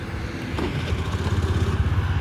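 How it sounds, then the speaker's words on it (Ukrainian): A Honda Dio 110 JF31 fuel-injected scooter engine starts and idles with a steady low rumble and light rattling, running evenly throughout without any other noise. "Заводиться гарно, двигун працює тихо, без посторонніх шумів"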